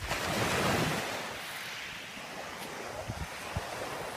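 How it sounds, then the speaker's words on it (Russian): Black Sea surf at Pitsunda on a warm day with a light breeze, a steady wash of waves swelling loudly at first then settling into a softer broadband roar with faint wind buffeting the microphone. "Море волнуется."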